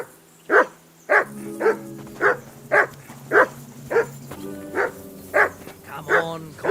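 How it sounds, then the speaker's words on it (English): A dog barks in the video game Kingdom Come: Deliverance 2, about ten sharp, regular barks spaced roughly half a second apart, loud and close over a low steady tonal hum. "Call off that damn dog before he wolfs down the last of our mates."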